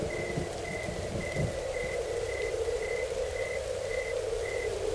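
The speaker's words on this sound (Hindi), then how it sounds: "हल्की हल्की बारिश शुरू हो गई" Light rain begins falling on a stormy night as a soft, steady patter over a low rumbling background, with a faint repeating tone pulsing evenly through it and no voices.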